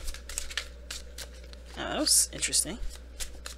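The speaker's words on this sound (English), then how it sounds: "So let me go ahead and shuffle." Tarot cards shuffled by hand during a love reading, a papery riffling and flicking that grows busier midway, with a brief spoken remark over it.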